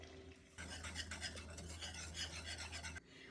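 Brown sugar being stirred into boiling butter in a pot for matzo toffee, a steady scraping, rasping stir close up for about two and a half seconds over a low hum, with no talking.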